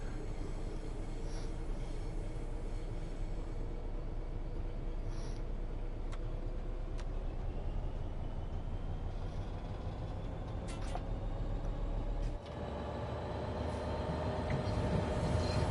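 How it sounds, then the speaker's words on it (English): Diesel shunter locomotive in the video game Train Sim World 3, a steady low engine rumble and rolling rail noise running continuously and fairly close, with faint brake or air sounds. "Oh, the little diesel shunter."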